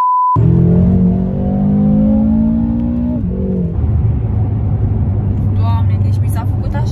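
A 750 hp BMW M6 engine droning loud and close, its pitch rising steadily under acceleration before dropping at a gear change, then a rougher roar continues with brief high squeaks near the end.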